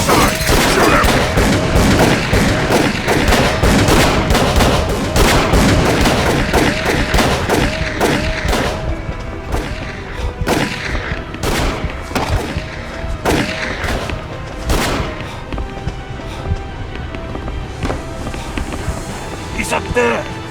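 Dense, loud gunfire from the horror video game Call of Cthulhu: Dark Corners of the Earth, rapid shots and booms in close succession that thin out toward the end.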